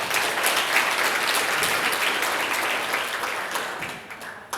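An audience at a community social inclusion forum bursts into sustained applause, a dense, close wash of clapping that tapers off near the end.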